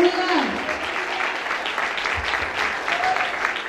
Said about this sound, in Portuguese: Receba com palmas para o Senhor.